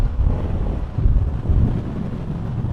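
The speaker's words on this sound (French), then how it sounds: "Ah la vache, le vent!" Strong wind buffets the microphone in the Scottish Highlands, a loud, continuous low roar with gusty surges and no talk.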